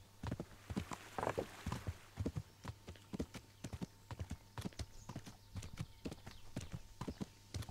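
Steady clip-clop of horse hooves on ground in the medieval game Kingdom Come: Deliverance, a brisk regular rhythm of close, crisp hoofbeats running throughout over a faint background hum.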